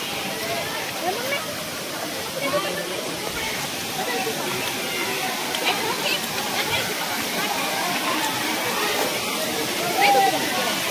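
The waterfall at Ramling, Yedashi in Dharashiv rushes in a steady, continuous roar of falling water, with people talking faintly over it.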